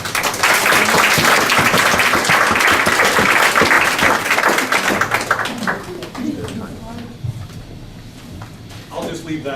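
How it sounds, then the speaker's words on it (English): At a local election candidates' event, a room of people breaks into loud, sustained applause that fades after several seconds, then scattered claps and murmuring voices remain. "So I want to give you a great applause for your time today."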